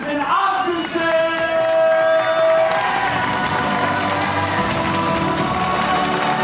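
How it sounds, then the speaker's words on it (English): A crowd cheers and applauds at the teqball finals on Venice Beach, Los Angeles, a loud continuous roar of clapping and shouting with music underneath throughout. "And the crowd giving the noise that they deserve."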